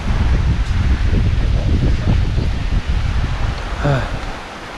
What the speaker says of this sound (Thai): ลมแรงมากข้างบนนี้